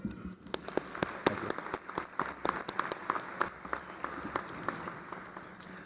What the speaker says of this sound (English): can we clap it up for them?